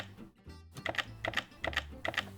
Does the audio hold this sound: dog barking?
no